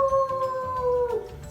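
A person's voice imitates a howling dog, a sustained tonal howl that slowly falls in pitch and trails off, loud and close, with no other talk.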